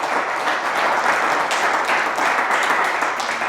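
A congregation at a Spanish-language religious talk breaks into loud, sustained applause, a thick continuous wash of many clapping hands held at a steady level throughout.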